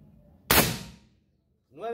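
A single sharp shot from a powered Menaldi 5.5 mm bullpup air rifle firing a 21-grain Barracuda pellet, close and loud, cracking then fading quickly, followed by a short silence and a voice starting to speak.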